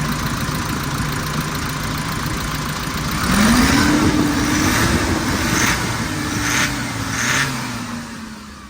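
A 2020 manual car's engine runs steadily near at hand, then rises in pitch as it revs up around the midpoint and settles back down, with no talking.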